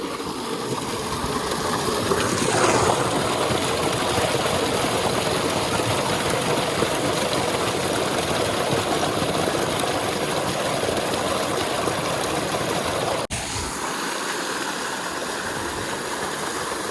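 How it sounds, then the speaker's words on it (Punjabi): A farm water pump motor runs with water rushing out, making a loud, steady roar and hiss that holds for the whole stretch and shifts briefly near the end. "ਚਲੋ ਆਪਾਂ ਮੋਟਰ ਛੱਡ ਲਈਏ"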